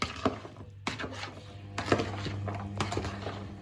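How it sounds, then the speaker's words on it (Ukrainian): A utensil tossing and mixing salad in a bowl, a few distinct clattering knocks spaced about a second apart, with soft rustling between them, close and alone without talk. "І починаємо ретельно все це перемішувати."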